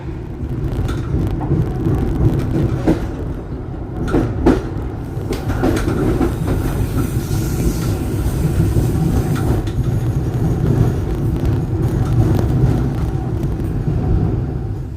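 An Indonesian Tawang Alun train rumbles steadily along the rails near Klakah station with a continuous low roar, interrupted by occasional clicks and clacks from the wheels.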